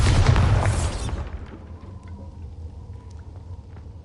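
A loud booming blast from the Bombarda spell in Hogwarts Legacy hits at the start, then fades into a low rumbling decay with faint debris clatter.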